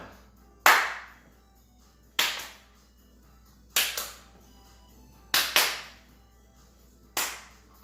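Hand claps during a seated seniors' fitness exercise, six crisp single and paired claps spaced unevenly about a second or more apart, close with a short room echo and no talk.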